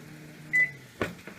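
Handling of a microwave oven in a home kitchen: a short electronic beep followed by a door clunk and a couple of knocking, rattling bumps, close and fairly quiet.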